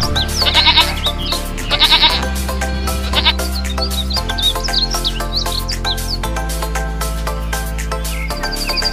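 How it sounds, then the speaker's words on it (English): A goat bleats in short repeated cries at a miniature zoo, set against music with birdlike chirps layered over it. "Goat."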